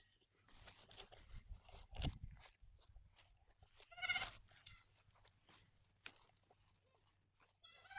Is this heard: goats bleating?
yes